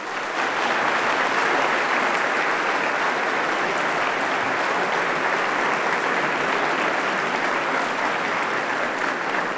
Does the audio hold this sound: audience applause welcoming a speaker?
yes